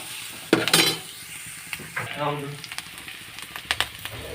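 Onions fry in a pan with a soft sizzle while a spoon stirs and scrapes against the metal in irregular knocks. A voice talks briefly partway through.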